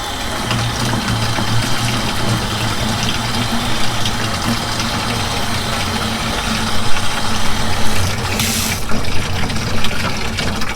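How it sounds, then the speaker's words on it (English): Running water rinses freshly filleted pompano meat during cleaning of the catch, a steady broadband wash with a constant low engine-like hum underneath and a brief louder splash near the end. "Okay, so I can take this, rinse it off."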